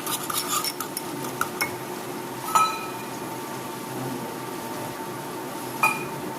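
A spoon scrapes and clinks against a pan while a Gujarati-style sabji is stirred and mixed, with soft repeated metal taps and rubbing. Two sharper clinks ring out near the middle and the end. No one speaks.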